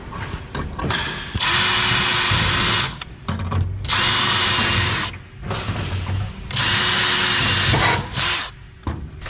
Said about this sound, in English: Then we have to drill the bottom too.